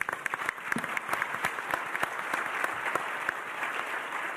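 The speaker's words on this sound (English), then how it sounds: "Big round of applause," Sustained audience applause at a summit plenary for young societal leaders in Singapore, welcoming the Prime Minister of Bhutan as he joins; dense steady clapping fills the whole stretch with no speech.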